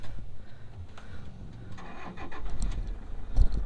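A Toyota Innova engine cranks and catches, then settles into a low rumbling idle, heard close with faint clatter and a few sharper knocks toward the end.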